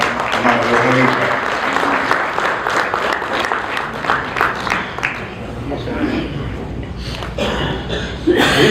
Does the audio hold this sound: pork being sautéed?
no